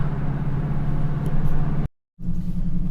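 A former police car drives along with its torque converter locking up, a steady low engine and road rumble inside the cabin, broken by a brief total dropout before the drone resumes.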